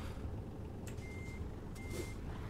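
Truck reversing beeps in the Euro Truck Simulator driving game: two faint, evenly spaced electronic beeps over a low engine rumble.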